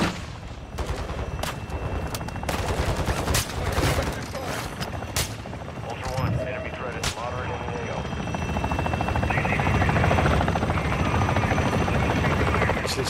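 An attack helicopter in the DMZ shooter game thunders overhead while firing, with rapid bursts of gunfire and sharp shots cutting over the steady rotor roar, and players talk over the action.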